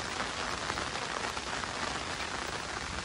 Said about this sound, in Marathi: पावसाचा जास्त आवाज येतोय.